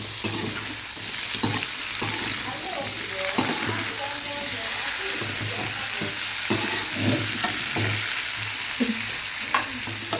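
String beans frying in a pan, a continuous close sizzle broken by repeated stirring scrapes and clatters, with no voices.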